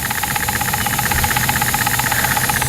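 Jensen steam engine running with a steady hiss and a fast, even mechanical knock and rattle, close and loud throughout.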